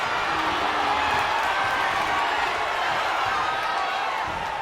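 A Smackdown wrestling crowd roars and cheers with steady, energetic intensity, a dense wash of voices holding loud throughout.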